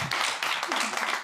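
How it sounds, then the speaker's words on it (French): An audience applauds a contestant at a Miss Universe RDC pageant; a steady, dense wash of clapping runs the full moment while a voice speaks over it. "On applaudit pour elle, s'il vous plaît."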